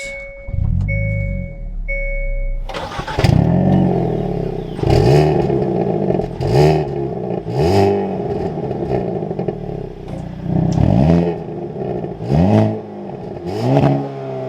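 A 2022 Hyundai Kona N, a turbocharged hot hatch, starts after a few chime tones, then its engine is blipped repeatedly in a series of sharp, loud revs close by, each rising and falling back to idle.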